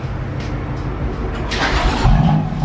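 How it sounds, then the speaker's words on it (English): BMW M4 with the S55 engine firing up from cold: a steady idle-like rumble that swells into a louder bark and rev around the two-second mark, heard close and alone. "Let's hear that cold start, bro."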